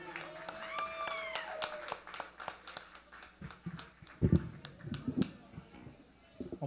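Audience applause at a samba tribute show, sparse claps and taps ringing out over a lively room with voices and music fading, a few louder bursts near the end.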